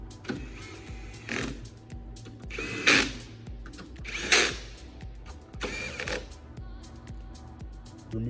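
A power driver with an 11/32 socket tightens down a display mount inside a kiosk, sounding in several short whirring bursts separated by pauses, each one rising and cutting off.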